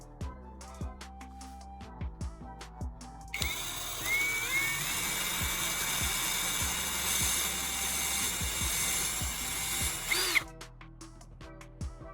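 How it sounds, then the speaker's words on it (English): A power drill whines steadily for several seconds, drilling a centered hole through caps, bracketed by scattered clicks and taps of handling before and after. "I'm drilling a centered hole through each cap."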